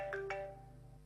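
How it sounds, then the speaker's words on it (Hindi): A phone rings with an incoming call, two quick bright chirps of a ringtone close together, followed by a lingering tone over a steady low hum in an indoor scene. "फोन आ रहा है"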